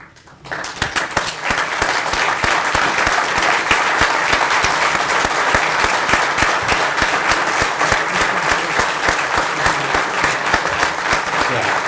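A large crowd at a corrections event gives a standing ovation, dense sustained clapping starting abruptly and continuing loud and even throughout.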